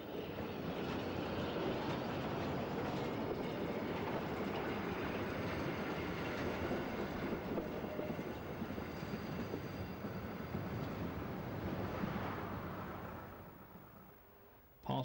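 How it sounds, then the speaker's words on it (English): Two diesel locomotives on a German narrow gauge railway haul an out-of-use Fairlie steam locomotive past, a steady loud engine rumble and wheel noise holding for most of the run before fading away at the end. "Here, 2 of them haul the unique out-of-use Fairley loco through Bryan."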